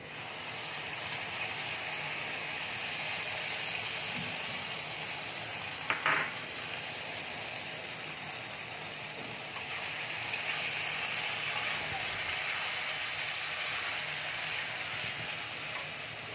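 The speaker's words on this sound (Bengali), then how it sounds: "কাশ্মীরি লঙ্কার গুঁড়োটা দিয়ে দিচ্ছি, দিয়ে মশলাটাকে ভালো করে ভেজে নেব।" Spices with turmeric, salt and Kashmiri chilli powder frying in a pan give a quiet, steady sizzle throughout, with a single soft clink near the middle.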